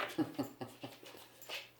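A dog moving around indoors close by, giving a few soft whimpers and small whines in quick succession, faint and intimate with light shuffling between.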